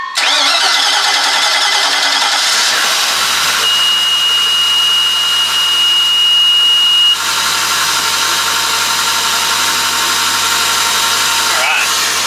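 Inboard engine of a 2013 Bryant 220 boat cranking and firing up, then settling into a loud, steady rumbling idle that fills the clip close to the listener, with a faint tonal whine for a few seconds.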